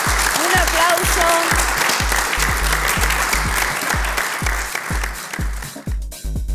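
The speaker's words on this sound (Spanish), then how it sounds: "Un aplauso." A studio audience at a TV contest show applauds loudly after a tie, with sustained clapping over a thumping musical beat that fades near the end.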